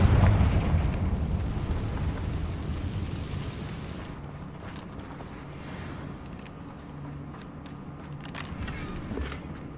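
A Confringo spell in Hogwarts Legacy detonates in a deep, rumbling blast that booms loudly at first, then trails off into a long, crackling roll of debris and low rumble.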